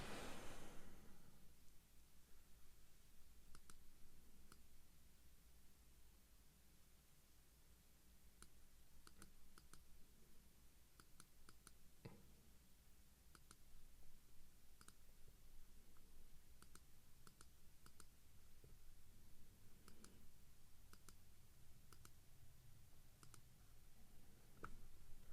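Computer mouse clicks at a desk, sparse and quiet, scattered irregularly over a low steady hiss with no talking.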